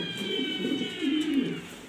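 A pair of uncommon, show-quality pigeons coo close by in soft, throaty rolling bursts, two or three low calls over a couple of seconds.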